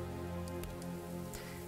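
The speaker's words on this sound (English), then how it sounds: "It's raining!" Rain patters in the video game Expeditions: Viking, a soft, steady wash of falling drops with a low ambient hum beneath and a few faint clicks, with no voices.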